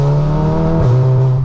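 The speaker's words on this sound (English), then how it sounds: "Some nice whooshes coming off the back of this as well." A Stage 3 big-turbo Golf R engine, loud and close, holding a steady note before a brief drop and shift in pitch, like a gear change with a whoosh, then settling again.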